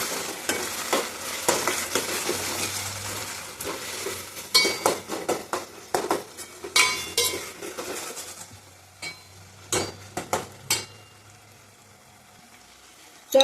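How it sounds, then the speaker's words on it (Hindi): Green chillies frying in a pan, a steady sizzle punctuated by repeated rhythmic scraping and stirring strokes of a utensil, close, fading to a quieter hiss near the end. "तो हरी मिर्ची का कच्चा स्मेल जाने तक क्या है अच्छी तरीके से फ्राई करेंगे इसे"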